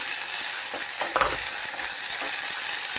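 Ginger garlic paste sizzles in a pan while a urad dal curry is being cooked, giving a steady, close, dense crackle throughout, with a brief scrape of stirring near the middle.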